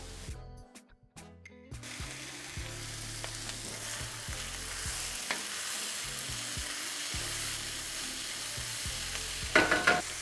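Peas and carrots fry in butter with ginger and garlic for beef fried rice: a continuous close sizzle with repeated scraping stirs, after a brief quieter start.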